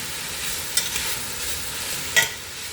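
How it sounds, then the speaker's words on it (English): Onions fry in a pot for a beefy vegetable stew, a low steady sizzle with two brief scraping stirs, quiet and close. "We'll let those onions cook down a little bit."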